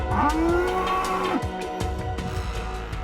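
A cow in the video game Fallout London gives a loud, drawn-out moo that rises and then holds steady for about a second. A low mechanical hum and scattered clicks continue underneath.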